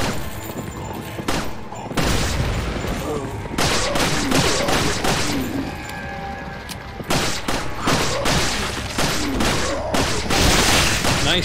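Resident Evil 4 gunshots fire repeatedly at close range, sharp loud cracks scattered among clattering and booming action noise, with a voice talking in the background.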